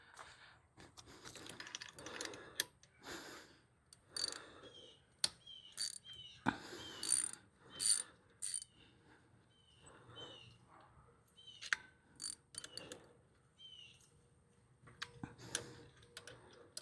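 A ratchet wrench clicks in irregular bursts while a 12 mm bolt is loosened from the stainless steel exhaust of a Honda Grom motorcycle, with close metallic ticks and small clanks against a quiet background.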